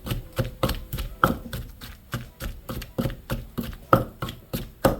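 Chilies are pounded in a mortar for Thai mackerel chili paste, giving a steady series of hard, close thuds at a brisk, slightly uneven rhythm, about three per second, with no talking.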